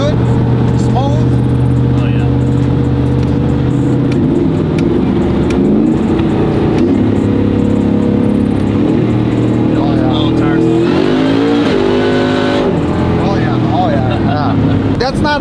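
A 1994 Chevy OBS truck with an 800-horsepower LT4 V8 and a 10-speed swap cruises along, its steady engine drone and road noise continuous and loud inside the cab, with people talking over it.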